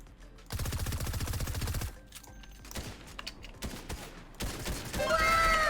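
Rapid gunfire in the video game Fortnite, a fast burst of shots up close followed by scattered quieter game sounds and effects.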